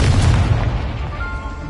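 Descendo spell impact in the Hogwarts Legacy video game: a single heavy, close boom with a deep low-end thud that quickly decays into a rumbling tail.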